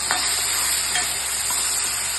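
Onion, tomato, curry leaves, chilies, bay leaf and ginger-chili-garlic paste frying in a pan for Kathiyawadi-style mung sabji, a dense, even sizzle close by with a couple of light stirring knocks.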